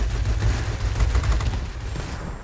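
Heavy machine guns on a Me 410 Hornisse fighter in World of Warplanes fire a loud, sustained rattling burst over low engine rumble, then fade slightly.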